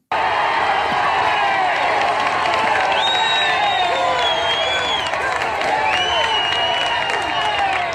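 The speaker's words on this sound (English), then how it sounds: "there's a crowd outside waiting for him" A crowd gathered outside a house cheers for Rocky in the film Rocky II, a loud, steady roar of voices with whistles and whoops rising over it for the whole stretch.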